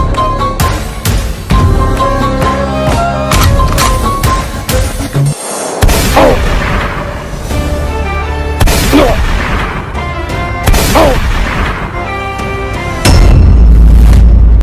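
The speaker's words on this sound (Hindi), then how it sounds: "ये धमाके की आवाज कैसी थी?" Loud explosion booms and blasts in a zombie-themed army action scene, several sharp bangs and rumbling bursts in quick succession, close and dominant, followed by a deep heavy rumble.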